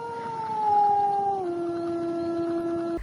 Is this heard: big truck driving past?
no